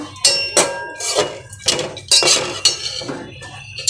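Spoon mixing dal in a metal pot, sharp clinks and scrapes in an irregular rhythm, about eight distinct knocks, close and fairly loud with no speech.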